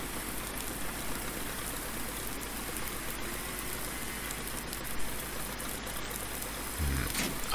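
Steady rain in a farming game world, a continuous hiss of falling drops with a faint low engine hum beneath, even and unbroken throughout, then a brief low thump near the end.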